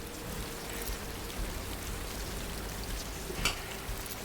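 Steady rain falls across an open landscape in the video game Death Stranding, a dense, even hiss that holds at a constant level throughout, with one slightly louder splash near the end.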